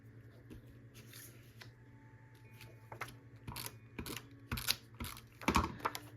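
Tape pulled and pressed onto a baseball-themed scrapbook page, a quiet run of small clicks, rips and taps close by that get louder and busier toward the end, with no talk.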